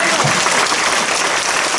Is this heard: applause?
yes